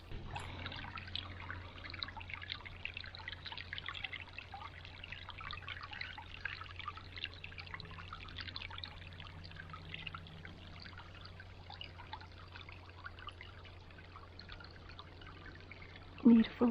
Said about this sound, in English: See the little stream back there?